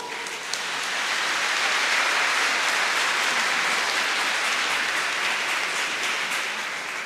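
A crowd applauds steadily throughout at a presbyteral ordination service, a dense wash of clapping that holds at an even level without pause.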